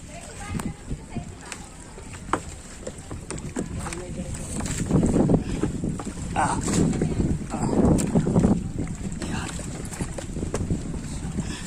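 Motorboat ride off Batangas, with a steady engine drone, water rush and wind buffeting the microphone throughout, and people chatting over it at close range.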